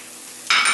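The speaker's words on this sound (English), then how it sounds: "What I'm going to do is I'm going to saute those white scallion roots," Scallion roots hitting a pan of hot oil set off a bright, loud sizzle that starts abruptly halfway through and holds steady to the end, with no voices.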